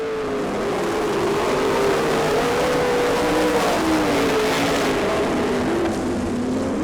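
Race cars on a dirt track accelerate and hold high revs, a loud continuous engine drone that shifts in pitch as the cars pass close by, with no talking.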